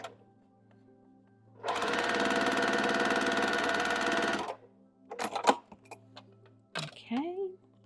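An electric sewing machine runs in one steady burst of about three seconds, a close even whirring drone while stitching a quilt seam, followed by clicks and someone speaking.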